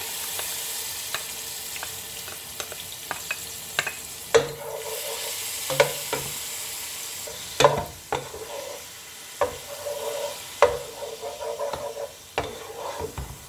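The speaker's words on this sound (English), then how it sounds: "keep stirring it till that raw smell of garlic goes off." Ginger garlic paste fries in a pan for prawn biryani, with a steady sizzle broken by repeated scraping stirs of a spoon against the pan.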